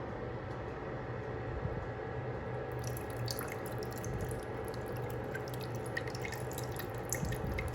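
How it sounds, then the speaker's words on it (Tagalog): Vinegar pours into a cooking pot holding fish and a little water for paksiw, a steady trickling splash with faint drips throughout. "Tapos pwede na natin ilagay ang ating suka."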